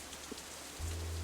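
Rain in the visual novel Katawa Shoujo hisses softly and steadily, then a low rumbling swell rises beneath it as the downpour thickens.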